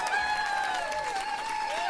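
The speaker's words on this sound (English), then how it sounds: "And then everybody breaks into applause" An audience breaks into applause after a young player's performance, a steady wash of clapping with sustained tonal ringing over it, fairly close and even in level throughout.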